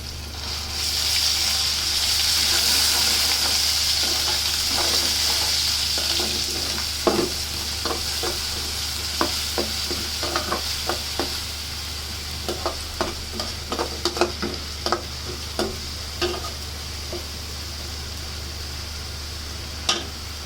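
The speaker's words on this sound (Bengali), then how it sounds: "পেঁয়াজ রসুন বাটা দিয়ে দিলাম।" Onion and garlic paste frying in a pan for a home-cooked curry, a steady loud sizzle with scattered crackles and pops, then occasional stirring clicks and scrapes. No one speaks.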